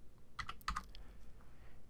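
A computer keyboard shortcut is typed in a quick cluster of a few sharp key clicks, close and fairly quiet, alone without speech.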